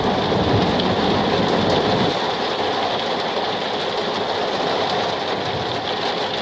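Heavy rainstorm with thunder and nearby lightning, a dense, steady roar of rain pounding down with no pauses, loud and close, a deeper rumble filling the low end through the first couple of seconds.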